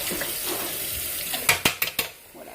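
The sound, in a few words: tap water running while rinsing a spoon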